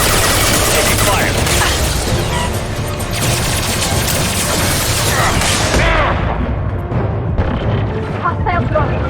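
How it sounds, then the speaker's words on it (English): Sustained, loud gunfire fills a Mass Effect 2 firefight, dense bursts of shots and booms rolling without pause before easing slightly toward the end, with scattered combat noise and possible voices mixed in. "Taking fire."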